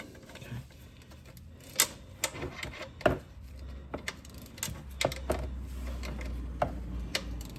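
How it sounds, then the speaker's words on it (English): A ratchet wrench works a fitting during an oil change on a 2025 Toyota Camry, giving a close, irregular series of sharp mechanical clicks and ticks with short pauses between bursts. "either socket, or I'm using a ratchet wrench today."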